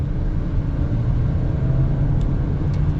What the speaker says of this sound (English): Let's get our acceleration here with the Discovery Sport